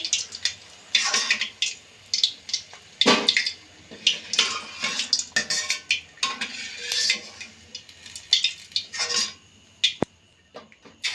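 Chicken pakora crackles and sizzles in hot oil in a steady stream of sharp, bubbly pops, close and fairly loud with no voices over it.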